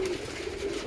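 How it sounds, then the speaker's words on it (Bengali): Released pigeons out for a bath under an overcast sky give a steady, low cooing drone, close and continuous for the short stretch, without any voices over it. "এই পায়রা সব ছেড়েছি।"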